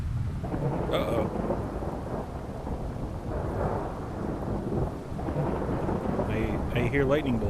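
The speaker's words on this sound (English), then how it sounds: "I hear lightning bolts." Thunder rumbles over steady rain in the Skyrim video game, a continuous loud storm wash with rolling low booms throughout, and a voice speaks briefly near the end.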